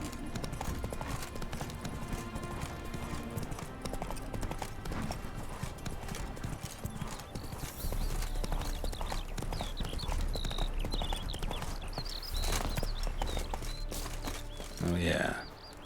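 Roach the horse gallops in The Witcher 3, a fast rhythmic clip-clop of hooves that runs through the whole stretch under game music, with voices talking over it at times.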